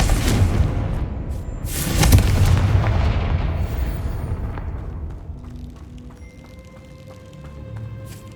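Confringo blasting spell in Hogwarts Legacy: heavy, booming explosions at the start decay into a rumbling tail, with faint ringing tones lingering afterward.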